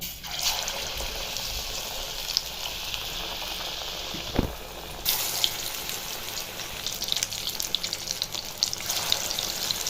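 Bean chops deep-frying in hot oil over a low gas flame give a steady bubbling sizzle, with a brief clatter midway as the frying carries on continuously without speech.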